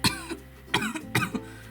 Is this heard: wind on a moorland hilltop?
no